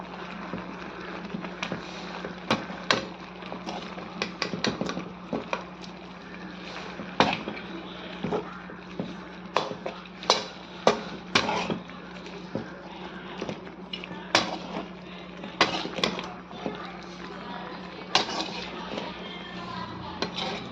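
Oil and mutton being stirred together in a pan for mutton chukka: repeated clinks and scrapes of a spoon against metal come in irregular bursts, with someone talking over the cooking.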